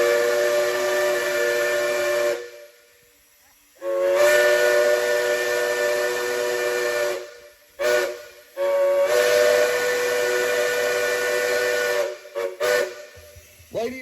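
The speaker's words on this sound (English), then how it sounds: "homemade whistles out of old boiler tube when they rebuilt steam locomotives" Homemade steam whistle built from old boiler tube at a railroad festival, blowing long, loud, steady chord-like blasts with hissing steam, broken by short gaps and a few quick toots near the end.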